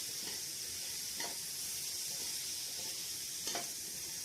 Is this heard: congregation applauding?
no